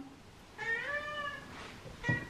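A pet cat gives one drawn-out grumbling meow, then a short second one, close by and fairly quiet in a calm indoor room, with no one talking over it.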